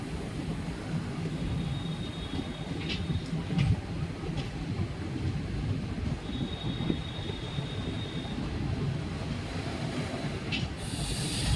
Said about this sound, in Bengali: এই আমাদের গাড়ি আন্দুল স্টেশনে ঢুকছে।